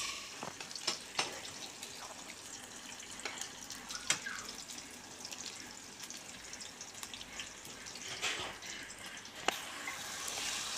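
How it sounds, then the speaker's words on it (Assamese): Onions fry in oil in a wok until reddish, a quiet, steady sizzle dotted with sharp crackles and pops, close but faint, with no voices. "এতিয়া পিঁয়াজ দি তাক অকণমান ফ্ৰাই কৰি থকা হৈছে"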